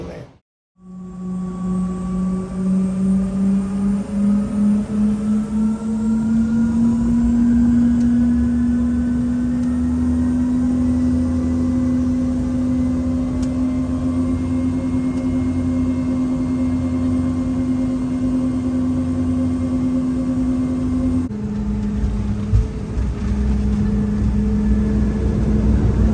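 Airplane cabin noise fills the space: a loud, steady engine drone with sustained tonal hums that slowly rise, shifting briefly near the end, and no clear talk.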